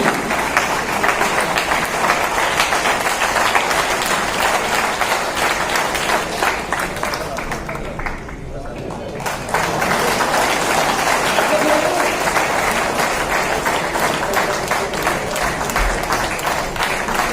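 Loud, sustained applause from an audience at a Goa BJP North Indian Cell meeting, dense clapping that dips briefly midway and then resumes at full strength, with a voice faintly over it.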